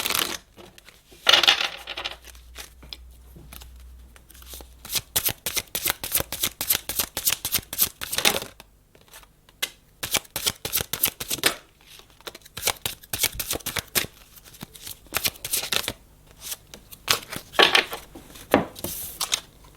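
Cards are shuffled by hand for a blind tarot-style reading, with repeated quick riffling bursts and soft slaps, close and fairly quiet, pausing in between and resuming in clusters.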